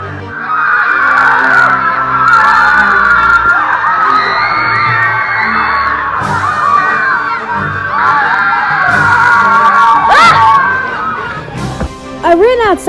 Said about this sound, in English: I didn't laugh anymore when I heard the screams outside.